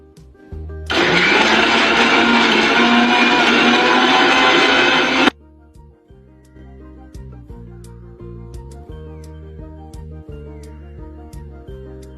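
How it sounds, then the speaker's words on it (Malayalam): A kitchen mixer grinder runs at top speed, blending milk cream with water in a loud, continuous whirring burst lasting about four seconds. It then stops, leaving faint clinks and quiet handling noises. "നമ്മളിത് മിക്സിയിലിട്ട് അടിച്ചെടുക്കുമ്പോൾ ഏറ്റവും ഹൈ സ്പീഡിൽ തന്നെ നമ്മളത് അടിച്ചെടുക്കുക."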